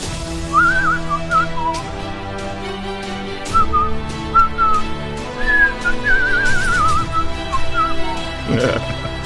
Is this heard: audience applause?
no